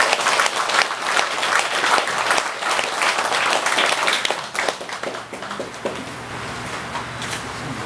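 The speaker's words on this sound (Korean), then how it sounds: "그럼 박수로 좀 환영해 주십시오" Audience applause at a Buddhist gathering on Jirisan welcoming a temple abbot monk, dense sustained clapping from a crowd lasting the whole stretch, slightly thinning toward the end.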